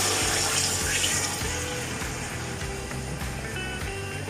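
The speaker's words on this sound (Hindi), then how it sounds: "अब मैं इसमें पानी ऐड कर रही हूँ।" Water pours steadily into a cooking pot of spice-fried chicken and rice for chicken yakhni moti pulao, a fairly loud, continuous rushing splash that eases slightly toward the end, with no talking.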